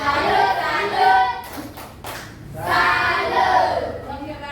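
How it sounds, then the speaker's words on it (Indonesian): A group of children performs a salute clap, chanting in rhythm with loud, group voices over a few quick claps and taps. "Oke, tepuk salut untuk James. Tepuk salut untuk Zola."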